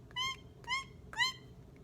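A voice imitates a squeak with three short, high-pitched cries, evenly spaced and fairly close.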